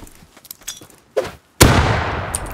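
Shots from a double-barrel shotgun in the survival game Rust, one sharp report followed by a louder, booming blast with a long ringing tail, heavy and close.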